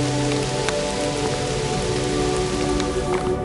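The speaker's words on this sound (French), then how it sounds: "Il pleut depuis qu'on est parti quasiment." Steady rain falling during a rainy bike tour through the Jura, a dense continuous patter of drops on surfaces, close and even, with occasional sharper drip hits and no voices.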